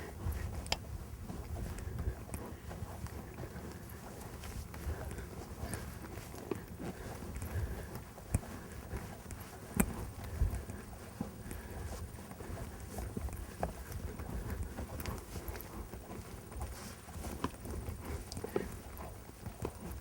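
A horse canters in an arena, its hoofbeats faint and rhythmic under wind and rustling noise, with soft thuds repeating steadily.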